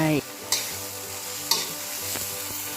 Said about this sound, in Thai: ใส่หมูหมักลงไป คนให้ทั่วเลยนะคะ